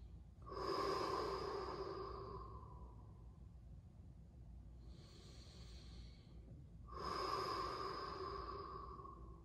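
Slow, deep breathing during a yin yoga session, three long nasal breaths close to the ear with quiet pauses between, each drawn in and released audibly.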